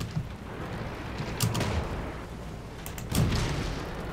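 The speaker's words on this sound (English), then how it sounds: "It looks like we got some artillery zooming in on us." Artillery shells land in World of Tanks, BT-7 tank gameplay: two heavy booms about two seconds apart over a steady rumbling background, with no talk.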